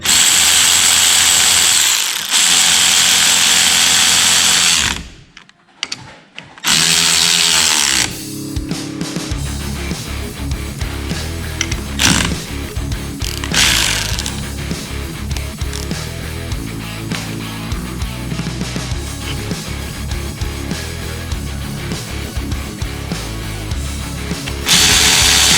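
A power tool tightens clamps on a Banshee ATV in loud, sustained bursts of whirring and rattling, with a brief pause partway through before the tool noise resumes and carries on to the end.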